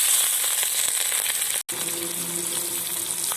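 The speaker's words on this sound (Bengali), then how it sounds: "পেঁয়াজটা ভাজা হয়ে গেছে" Onions fry in hot oil with cardamom, cinnamon and cloves for a chicken curry, giving a soft close sizzling hiss with a brief break in the middle and a faint low hum afterward.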